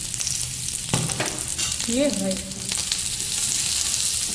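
Cumin seeds sizzle and crackle on a hot griddle while making paneer paratha, a steady frying hiss with brief stirring scrapes and a short spoken remark over it.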